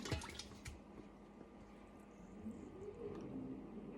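Buttermilk poured from a container into a bowl while making homemade butter, a faint, steady liquid trickle and splash that runs on quietly for a few seconds with no talking.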